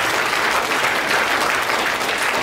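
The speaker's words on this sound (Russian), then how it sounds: "Аплодисменты." Steady, dense applause from an audience at a public speech in Belarus, loud and continuous throughout with no voices rising above it.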